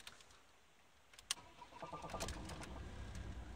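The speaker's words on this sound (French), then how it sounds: "et là la voiture démarre et vous pouvez rouler comme ça." A Renault car engine starts up after a sharp click, turning over and settling into a steady low rumble close by, with no voices.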